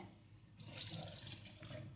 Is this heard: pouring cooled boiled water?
yes